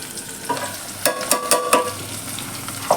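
Onions and chillies frying on a traditional stove, a steady close sizzle with sharp crackles and a few bursts of stirring, and no voices.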